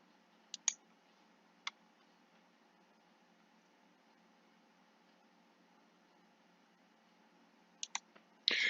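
A few sharp, faint computer mouse clicks tick out in a quiet room, two early, one more a second later, then a quick pair near the end followed by a brief louder burst.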